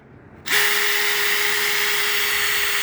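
A power drill drilling holes in a wall whirs to life abruptly after a brief quiet moment, holding a loud, steady high-pitched motor whine.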